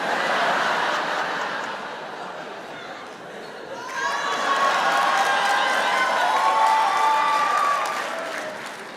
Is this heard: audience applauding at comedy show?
yes